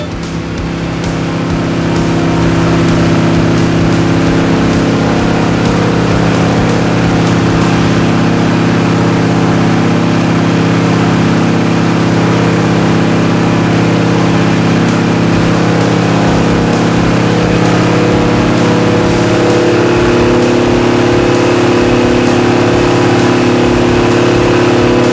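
An airboat engine runs at full power, blasting wind at hurricane screens in a 100+ mph wind test, a loud sustained droning roar with steady low tones and no voices.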